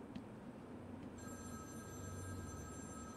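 A telephone rings in the Batman Arkham City video game, a steady electronic ring sounding alone over low game ambience with no talk.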